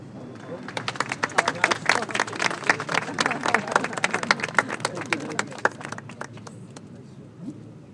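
A small outdoor gathering claps at an Italian flag-raising ceremony honoring Italian heritage, with distinct individual handclaps forming a lively burst that thins out and fades over the final seconds, with faint murmuring behind.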